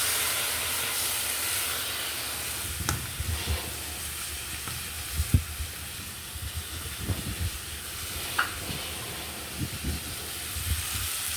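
Dried anchovies frying in a pan with onion and masala make a steady hiss and sizzle, with occasional soft clinks and stirring sounds.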